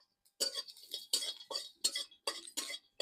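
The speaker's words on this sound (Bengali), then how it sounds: "বাদাম গায়ে আমি একটু নাড়াচাড়া করে ভাজে নিব।" Peanuts stirred and fried in a pan for madwa laddu, a spoon or spatula scraping and clinking against the metal in about six short bursts with brief pauses, close and fairly quiet, with no talking.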